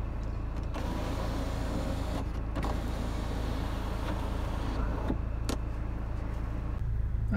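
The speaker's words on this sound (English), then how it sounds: "so the electric sunroof, just to show that all works exactly as it should." A small electric motor whirs steadily for several seconds with faint creaks and clicks, close by inside a Honda Accord 2.2 i-CTDi diesel, as a sunroof slides open.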